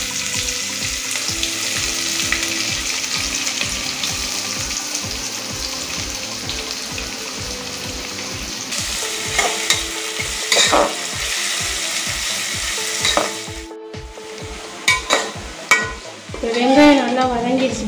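Chopped onions with cardamom pods and star anise frying for a half-kilo seeraga samba mutton biryani, giving a steady close sizzle with occasional stirring scrapes and clinks throughout.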